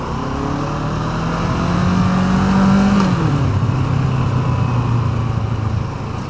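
A Kawasaki ER-6N motorcycle pulls away and accelerates, its close, loud engine note climbing in pitch, dropping briefly at a gear change, then rising steadily again.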